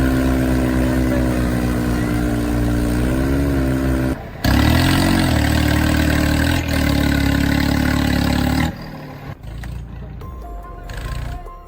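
A tractor stuck in mud, its engine idling with a steady low hum, then briefly running louder and rougher before dropping away to quieter scattered noises near the end.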